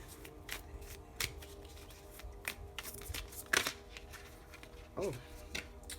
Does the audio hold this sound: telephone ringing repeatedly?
no